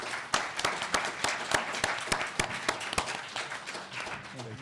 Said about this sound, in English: please join me in giving a big round of applause to our speakers.